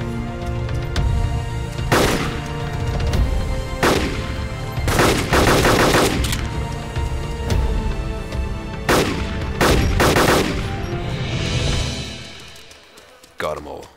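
Automatic rifle fire in the Arma 2 DayZ Mod game comes in loud repeated bursts with short pauses between them, then fades out near the end.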